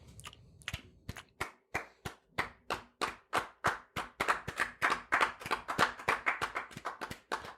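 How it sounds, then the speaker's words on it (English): A small group claps in unison, sharp distinct claps that start sparse and quiet, then grow louder and faster as the rhythm drifts apart and the claps blur out of sync. "did you hear how we were all clapping simultaneously at first, and then slowly we all went out because we were clapping at different speeds"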